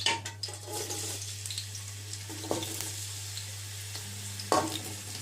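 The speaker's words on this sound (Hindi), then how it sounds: "अब साथ में अनियन डालूंगी।" Onions sizzle in hot oil in a pot for a mutton pulao, under a steady frying hiss, with a few soft scrapes and knocks from a spoon stirring them. A low hum runs underneath.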